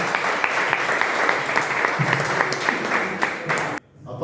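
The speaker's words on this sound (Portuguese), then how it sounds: "Você pode aplaudir o Senhor bem forte, por favor?" A church congregation at an evening service held in a garage claps loudly and steadily in a dense burst of applause. It stops abruptly near the end, leaving a brief quiet tail.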